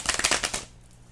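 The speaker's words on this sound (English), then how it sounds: "I just want to make sure I get this really shuffled." A deck of tarot cards is shuffled by hand in a quick burst of riffling lasting about half a second, then silence.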